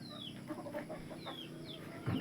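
A chicken clucks softly in a farmyard, with chicks nearby and steady background noise underneath and a short louder burst at the end.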